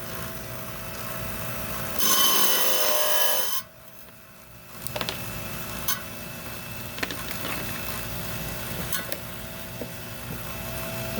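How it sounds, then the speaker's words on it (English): A lapidary trim saw cuts a piece of unakite stone, a steady loud grinding whine that cuts out abruptly, then the motor hums at lower level with occasional clicks and taps. "Okay, we're down here on the trim saw."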